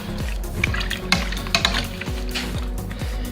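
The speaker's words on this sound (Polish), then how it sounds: "Wszystko to zamieszam." Close, continuous stirring of green beans in salted water in a pot: wet scraping and clinking strokes at a quick, regular rhythm, with liquid sloshing and light metallic taps.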